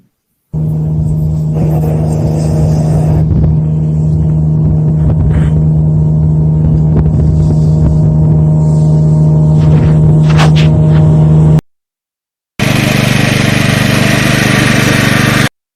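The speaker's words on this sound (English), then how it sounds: "The Triflex was used that was its first mow in the spring." A Triflex mower fitted with a TurfTrainer brush system mows turf on its first spring cut, a loud steady engine drone with a constant hum, briefly cut off near the end before resuming.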